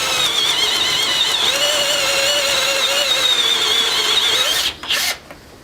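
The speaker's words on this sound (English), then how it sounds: "We'll stick the drill in." A loud, close power drill whines steadily into timber for several seconds, its pitch shifting slightly, then winds down and stops.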